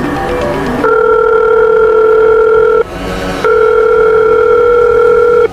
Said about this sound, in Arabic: تليفوني بيرن